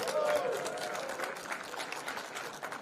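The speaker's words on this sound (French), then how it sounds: "Ah, ça applaudit quand même." Dinner-event audience applauding a named member of parliament during a banquet introduction, a scattered, moderately dense round of clapping with crowd murmur and some voices mixed in.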